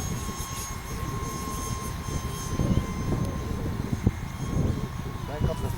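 Small 3D-printed Folland Gnat RC jet with a 12-inch wingspan and 30mm electric ducted fan, flying outdoors: a thin, steady high-pitched fan whine runs throughout, faint beneath wind noise and occasional thumps.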